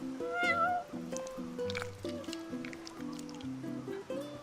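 A cat in the Final Fantasy XV video game meows repeatedly and up close, several distinct cries over a soft game soundscape.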